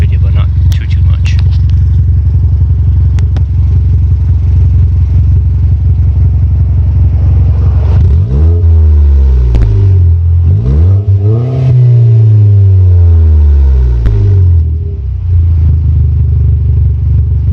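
A 2012 Chevy Sonic fitted with an aftermarket DNA exhaust idles loudly up close, then gets revved twice in quick succession, its engine note rising and falling before settling back to a steady idle.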